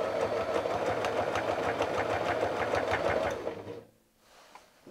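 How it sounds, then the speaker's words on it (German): A sewing machine stitches along an appliqué fin on a beginner's quilt, running loud and steady for several seconds before it stops abruptly, followed by a short quiet shuffle. "und nähen nun weiter an unserer Flosse entlang."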